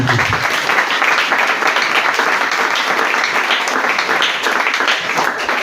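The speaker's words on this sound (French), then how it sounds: "Est-ce que tu peux acclamer très fort Jésus?" A congregation at a prayer meeting claps loudly and continuously in acclaim of Jesus, a thick, unbroken wash of applause from many hands lasting several seconds.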